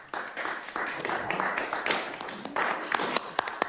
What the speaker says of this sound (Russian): Мне показалось, что я слышу, как аплодируют на галерке.